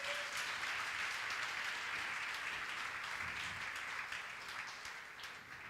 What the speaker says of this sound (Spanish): Le damos otro aplauso al Señor